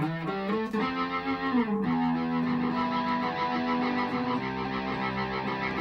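A distorted organ-like tone through a Leslie rotary speaker with a swirling, pulsing tremolo warble, sustained chords and a held note, continuous and fairly loud with no talking.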